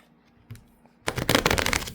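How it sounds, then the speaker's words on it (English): Tarot cards shuffled by hand during a full moon reading: after a quiet start with a faint tap, a dense burst of crisp, rapid riffling flutters begins at about one second and continues close and fairly loud. "get those cards shuffled"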